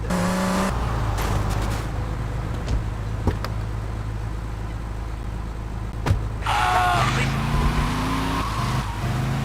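Car engine revving with tire skids in GTA Vice City on PS2, loud and steady throughout, with bursts of squealing and impacts and brief background voices from the game.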